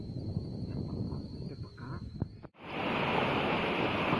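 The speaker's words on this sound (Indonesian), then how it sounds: "ini salah satu sungai yang ada di Cianjur Selatan" A river in South Cianjur rushes as a steady broad wash of flowing water, loud and continuous, briefly dipping before surging back fuller, outdoors at night.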